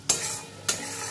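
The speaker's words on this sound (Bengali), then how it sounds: "টক দই দিয়েও মশলার সঙ্গে আমি কিছুক্ষণ কষিয়ে নেব" Whisked sour yogurt and spice paste sautéing in a pan make a soft sizzle broken by two quick scraping strokes of a spoon, close and clear with no voices.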